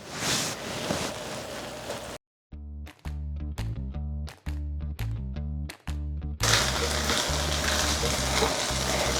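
Eggs and cheese sizzle in a frying pan with a steady close hiss. The frying stops abruptly partway through while a musical passage plays, then the loud sizzle returns.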